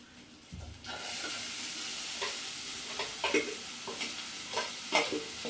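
Spinach drops onto sautéed onions in a hot pan and sets off a sudden loud sizzle that holds steady, while a spoon stirs with repeated scrapes and knocks. Nobody speaks.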